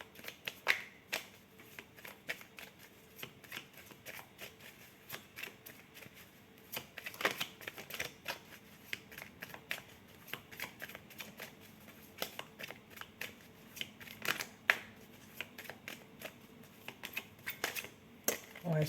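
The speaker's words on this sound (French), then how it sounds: "je vais faire tomber les cartes" Playing cards are dropped and handled during a game, giving soft scattered flicks and light slaps in irregular clusters, quiet and close, with occasional low murmurs of talk.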